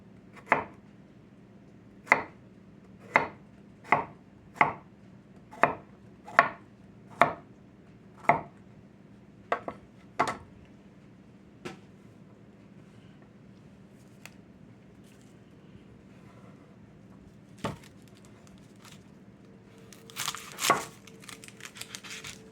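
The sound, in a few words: chopping ingredients into little pieces for stuffing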